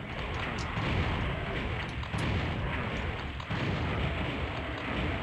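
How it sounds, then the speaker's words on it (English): Missiles exploding in the shooter game Doom 64 make a continuous, loud rumble of overlapping booms and blasts that fills the whole stretch without pause. "I just have to wait out those missiles exploding out there."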